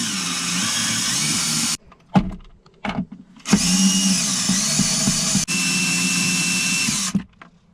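A power drill backs out four bolts inside a Toyota Tundra: loud sustained whirring bursts that stop and restart, with short pauses and clicks in between as each bolt comes free.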